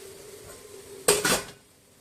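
A metal strainer of sweet potato is set down onto a pot of boiling water, giving a sharp clatter followed by a second rattling knock, close and loud, with no talking.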